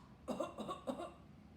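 Three short, quiet coughs in quick succession from a single person nearby, followed by near silence.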